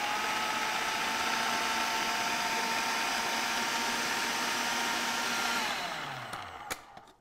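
A blender blitzes cayenne pepper and cumin for fish cakes, a loud, steady high-pitched motor whir held for several seconds, then winding down with a few small knocks as it stops.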